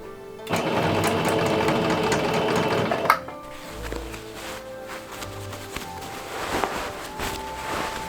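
Sewing machine stitching heavy cotton twill obi fabric, a loud close mechanical whir for about three seconds, then stops, followed by quieter handling clatter.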